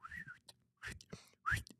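A voice whistles a few short rising and falling notes, breathy and close, imitating a hit baseball flying through the air.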